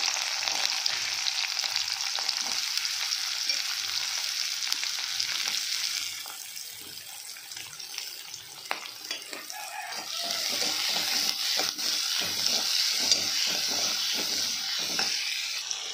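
Onions and green chillies sautéing in oil with mustard seeds for carrot egg rice, a steady sizzle with brief spoon scrapes and stirring, and a rooster crowing faintly in the background.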